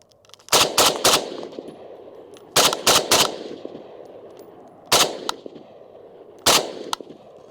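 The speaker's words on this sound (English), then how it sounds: "I'm gonna fire just a couple fast." An FN FNC rifle fires in short rapid bursts: three groups of two to three sharp, loud shots, then two single shots spaced apart, with no talking.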